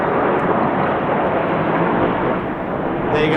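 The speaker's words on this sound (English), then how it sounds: "this is the chevron roll. As the jets go upside down, they'll see you waving" Military jets flying the chevron roll at 2,500 feet and 400 mph, only 6 feet apart, at the East Fortune Airshow make a loud continuous roaring rush that fills the whole moment with broadband engine noise.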